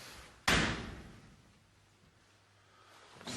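A door slammed once at an old building in a quiet, empty town at night: one loud sharp bang followed by a fading rumble, then stillness and a faint second knock at the end.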